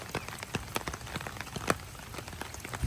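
Steady monsoon rain patters on a surface, with scattered louder drops tapping irregularly throughout.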